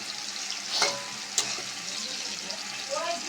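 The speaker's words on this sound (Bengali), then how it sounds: "এখানে এক থালা বেগুনি ভাজা হয়ে গেছে, আরও ভাজা হচ্ছে" Eggplant fritters (beguni) frying in hot oil, a steady close hiss of sizzling with a couple of brief clinks or stirring scrapes over it.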